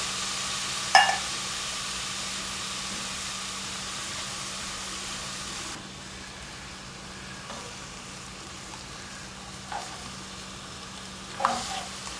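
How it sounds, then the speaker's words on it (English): Tomatoes and tomato paste sautéing in a pot for Greek-themed chili, giving a steady soft sizzle that drops quieter partway through, with a few brief clinks of stirring. "now we're going to put the tomatoes in the tomato paste. Okay. Put that in right now. Get those a little sauteed."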